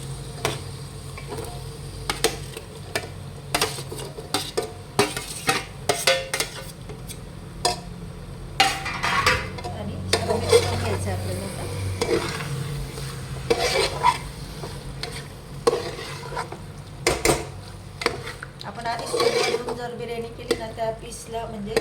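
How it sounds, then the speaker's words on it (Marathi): Marinated chicken sizzles in a fried masala tempering for chicken dum biryani, stirred with a utensil against the pot. The scraping strokes are close and irregular, repeating over a continuous frying hiss. "दोन तीन मिनिट आता फ्राय होऊ देऊ"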